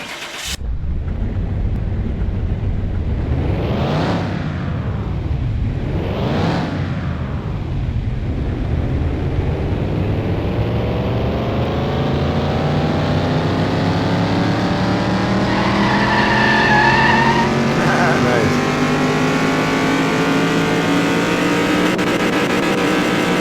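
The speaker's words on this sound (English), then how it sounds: "Let's run the dyno again." A car engine revs hard on a dyno in Car Mechanic Simulator 2021, with two quick throttle blips followed by a long, loud, continuous climb through the rev range that holds at high pitch until the end.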